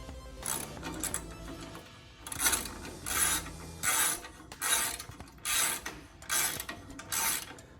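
Ratchet wrench clicking in short repeated bursts while bolting up a fender brace mount on a Willys Jeep, close and fairly quiet with brief pauses between strokes.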